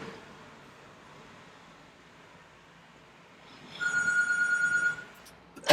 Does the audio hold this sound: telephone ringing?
yes